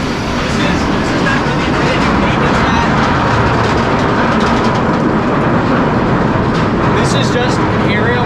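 A Griffon roller coaster train at Busch Gardens Williamsburg rolls and rumbles with a loud, continuous clatter near the parking area, while people talk over it.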